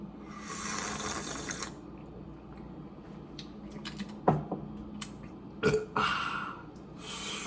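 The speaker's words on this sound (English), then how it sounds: "Even got a burp out of that one." A single close, loud burp after sipping hot pumpkin spice coffee, preceded by slurping and small clinks from the mug in a quiet room.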